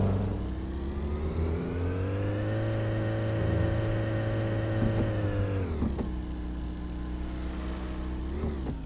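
Car engine in Car Dealer Simulator, a steady mid-pitched drone that climbs as the car speeds up, holds, then drops with a gear change or lift-off near the end, continuous and close with no talking.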